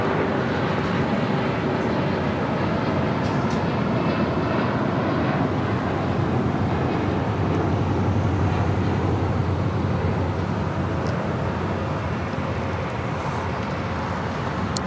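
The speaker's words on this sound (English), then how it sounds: "Flight taking off, that was United Express SkyWest Flight 5786 heading to Aspen in a CRJ 700." A SkyWest CRJ 700 regional jet rolls and lifts off a runway at LAX, a steady, loud broadband engine roar filling the whole stretch with no talk over it.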